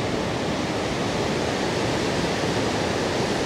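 A waterfall roars steadily beside a mountain temple on the Annapurna Base Camp trek between Bamboo and Deurali, a dense, continuous rushing wash close by with no pauses and no voices.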